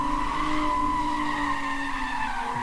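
A drift car's tires squeal in a long sustained skid on a street course, with a loud tonal screech and engine drone blending throughout, slowly shifting pitch as the car slides.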